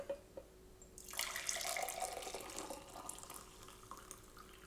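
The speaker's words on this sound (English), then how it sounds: "let's take this right now and pour it into a cup" Swedish egg coffee, brewed with eggshell included, pours into a cup as a steady close splashing stream that starts after a second of quiet and trails off gently.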